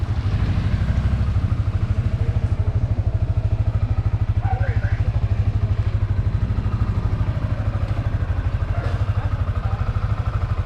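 Yamaha Sniper 155 motorcycle idles steadily and close, a rapid even engine thrum with light mechanical clatter, faint voices in the background.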